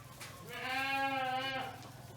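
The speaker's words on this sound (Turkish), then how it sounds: "Bu kafası kırık koyunumuz." A sheep with an injured head, kept at a village farm, gives one close, clear, wavering bleat lasting about a second over faint background noise.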